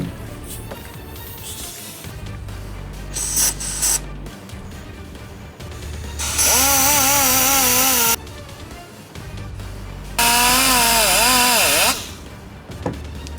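Power tool polishing a 3D printed resin model, two loud sustained whining bursts of roughly two seconds each with pitch wavering, between quieter handling noise; no talk.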